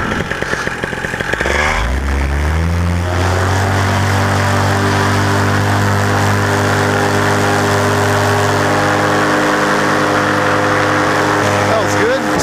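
A paramotor engine cranks up after a brief start, then settles into a loud, steady running drone with a strong harmonic hum that continues close by for the rest of the clip.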